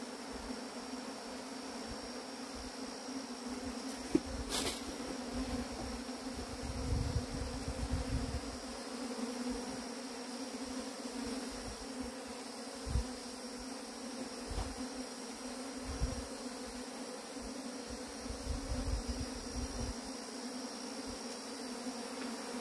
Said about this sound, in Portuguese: E vocês viram que essa abelha é uma abelha tranquila.